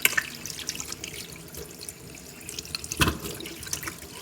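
A mackerel is rinsed under running water from a tap, with splashing, drips and handling noises close by, including a brief louder splash near the middle.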